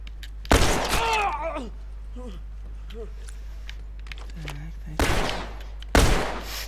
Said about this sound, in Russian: Да, блин, я ж стрелял.